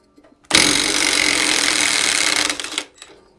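Socket wrench removing a big nut on a homemade Briggs & Stratton mini farm tractor, a single loud, sustained buzzing rattle lasting about two seconds and then cutting off, very close.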